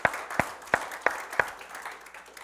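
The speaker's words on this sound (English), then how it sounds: "Can you give the Lord a hand clap?" Congregation in a church claps hands in response to the pastor, five sharp, evenly spaced claps heard fairly faintly in a reverberant room.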